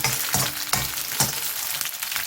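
Onion and coconut sauté in a pan with a close, continuous sizzle, broken by a few rhythmic stirring scrapes.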